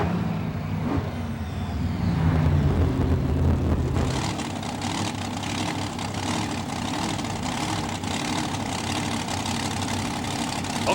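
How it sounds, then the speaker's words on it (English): The Snakebite monster truck's 460 cubic inch supercharged engine runs steadily with a deep, heavy rumble, loud and continuous throughout, with a busier roar from about four seconds on. "a bizarre reptilian design, plus a 460 cubic inch supercharged engine"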